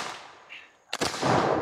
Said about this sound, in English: final round out of an original model of 1816 Harpers Ferry, made in 1834. Get that round downrange.